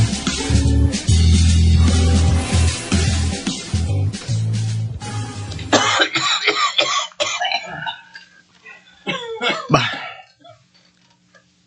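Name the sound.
coughing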